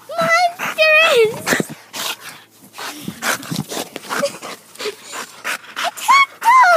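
A dog yelps, whines and pants in short bursts across a lively scene, with high-pitched voices chattering over and between the dog sounds.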